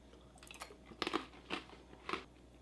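Crunchy chewing of Russian prison guard ration crackers topped with apple jam, several close, dry crunching bites spaced about half a second apart with no talking.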